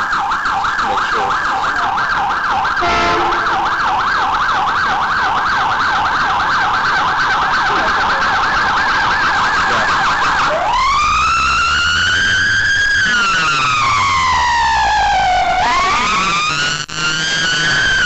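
An ambulance siren wails loud and close, cycling through a rapid yelp and then long rising and falling tones as the emergency vehicle passes on the road, with car noise beneath.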